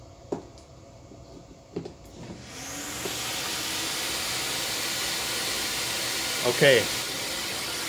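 A central vacuum cleaner in a home, with a hose plugged into its wall inlet, starts up after a few clicks and then keeps up a loud, steady airy whoosh and hiss. A voice speaks briefly at the start.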